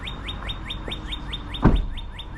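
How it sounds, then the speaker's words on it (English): Birds chirp in a quick repeating pattern of bright, high notes, with one louder low thump partway through. "Birds."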